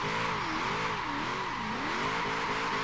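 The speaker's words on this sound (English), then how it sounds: "look, it's doing some freaking gnarly burnouts too" A Chevrolet Colorado ZR2 truck in Forza Horizon 4 doing burnouts, its engine revving in wavering, rising and falling pitches over steady tire noise, loud and continuous throughout.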